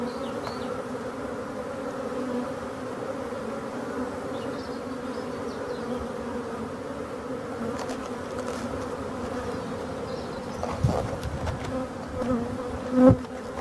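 Bees returning to a small nucleus hive make a continuous close buzzing hum, steady in volume, with a few louder passes near the end as individual bees fly close.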